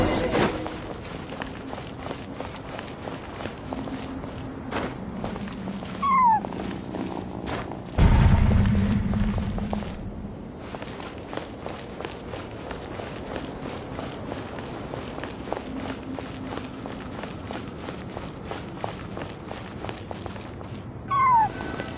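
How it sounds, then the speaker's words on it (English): In the Genshin Impact video game, a cat's cries sound as two short rising mewing calls, then a third near the end. They sit over soft rhythmic in-game footsteps and ambience, with a brief louder burst in the middle. "And so, I followed the cat's cries to find my way out."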